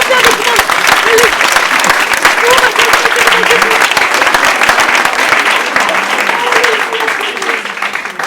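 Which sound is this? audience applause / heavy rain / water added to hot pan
audience applause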